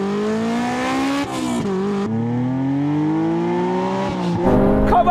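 Toyota Supra and Dodge Charger in a roll-in drag race, engines revving hard with rising pitch that drops at each gear change, a loud close roar that builds to a final burst of louder noise.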